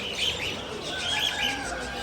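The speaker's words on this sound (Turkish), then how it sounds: "muhabbetin, papağanın, kanaryanın envai çeşidini bulabilirsiniz" Caged budgies, parrots and canaries at an exotic pet market in Bursa, Turkey, chirping and tweeting in bright, overlapping bursts against a steady background hum of the market.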